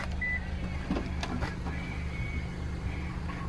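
A 2015 Subaru Outback 2.5i Premium's powered rear hatch whirs open with a steady electric motor drone and a couple of faint clicks, close by, with no talking.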